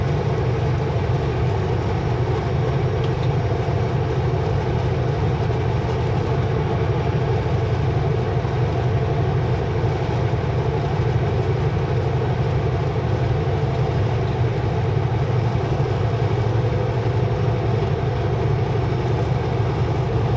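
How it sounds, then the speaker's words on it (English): A continuous low rumble of a Canadian National train rolling past, coming in from Vernon, steady and fairly loud for the whole stretch with no talking. "That's a train coming in from Vernon, which is a Canadian National train,"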